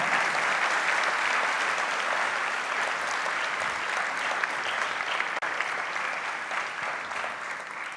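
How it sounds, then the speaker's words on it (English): Dense, steady audience applause fills a large hall at the Sathya Sai World Youth Festival evening session at Prasanthi Nilayam, a continuous wash of many hands clapping at an even level throughout. "Let us give Mr. Ramachandran Venkataramanan another round of heartfelt applause."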